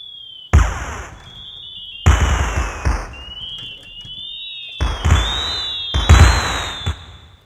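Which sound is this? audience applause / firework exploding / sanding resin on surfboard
firework exploding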